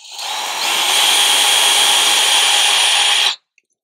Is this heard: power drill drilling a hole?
yes